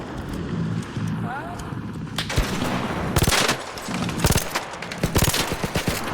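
Rapid bursts of gunfire in the video game Arc Raiders, loud repeated shots crackling in clusters under excited voices talking over each other.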